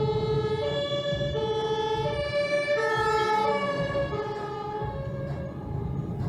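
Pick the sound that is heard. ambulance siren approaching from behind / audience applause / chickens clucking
ambulance siren approaching from behind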